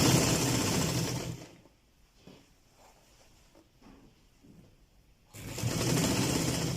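A sewing machine stitches the fabric of a white pleated kimono dress, loud whirring runs at the start and end with a quiet pause of soft handling clicks between them.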